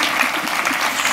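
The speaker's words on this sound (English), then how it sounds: "So, yeah, clap for that because it's really good." A seminar audience at a wedding business event claps together, a steady dense wash of applause filling the whole moment at moderate loudness with no talking over it.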